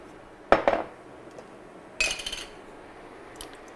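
A metal spoon clinks and scrapes against a pot while spaghetti sauce is stirred into lasagna filling, heard as two short rattling bursts a second or so apart, then a faint tap, with no talking.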